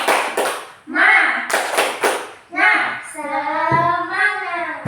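Schoolchildren in an elementary classroom doing a rhythmic spirit clap, bursts of loud claps in a patterned beat alternating with the children chanting together in unison.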